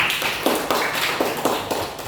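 Classroom of students applauding together, a steady patter of overlapping claps with rhythmic bursts, close and fairly loud with no talking.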